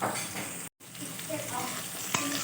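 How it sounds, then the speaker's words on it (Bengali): Pumpkin pieces frying in hot oil, a continuous close crackling sizzle with a brief dropout partway through and faint stirring clinks. "তো কুমড়োটা একটু ফ্রাই হয়েছে তেলের মধ্যে"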